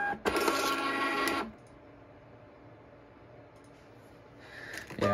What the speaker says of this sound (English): so now I'm going to print a test label on both of these again